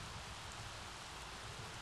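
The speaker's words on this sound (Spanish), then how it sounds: "Además está lloviendo" Steady rain falling in The Sims 3, a continuous even hiss of rain on surfaces, faint and unbroken with no other sounds.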